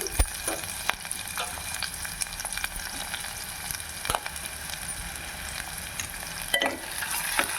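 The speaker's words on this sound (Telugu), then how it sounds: "క్యాప్సికమ్ వేసుకోవాలి ఒక రెండు నిమిషాలు ఇప్పుడు ఎర్రగడ్డలు వేసుకున్నాము" Onions and capsicum fry in a pan with green chillies, giving a steady low sizzle broken by a few sharp clicks and scrapes of stirring.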